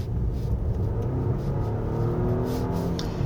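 A 2024 Volvo XC90 T8 AWD Recharge plug-in hybrid SUV accelerates hard in power mode on a winding mountain road, its engine drone rising steadily in pitch from inside the cabin, continuous and fairly loud with no talk.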